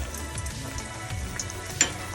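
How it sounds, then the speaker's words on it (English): Plantains sizzling and crackling in hot oil in a pan, a steady close frying hiss with a few sharper pops. "I'm frying the plantains right now."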